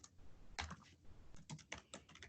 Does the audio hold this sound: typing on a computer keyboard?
yes